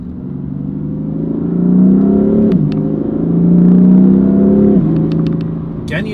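A deep 2017 BMW M4 Convertible engine revs up twice and settles back, loud and close, with a low rumbling exhaust note throughout, exhaust valves closed.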